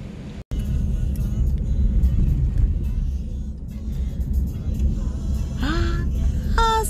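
Steady road rumble from inside a car driving along a road in Hawaii, a continuous loud engine and tire drone that holds for the whole stretch, with a brief dropout near the start and faint voices underneath.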